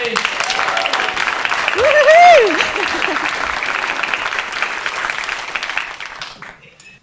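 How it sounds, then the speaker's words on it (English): Audience applause welcoming a speaker to the stage at a SPEAKup Challenge public speaking event, steady crowd clapping with a few whoops and cheers, fading out near the end. "Please welcome to the stage, massive round of applause, Olya, everybody!"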